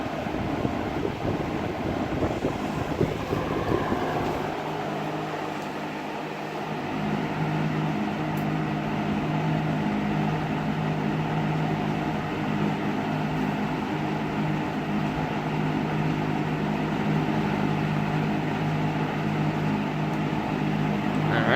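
A McGraw-Edison box fan with metal blades runs steadily at close range, giving a loud, continuous whooshing drone with a low hum. Brief handling noise comes at the start, then the airflow settles into an even, unbroken roar.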